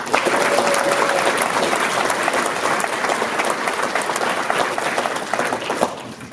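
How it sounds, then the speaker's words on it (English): Crowd applause for Mark Meckler at a Convention of States town hall in Boise, Idaho, a dense, loud burst of clapping that holds steady for several seconds before thinning out at the end. "So big round of applause for our friend Mark Meckler."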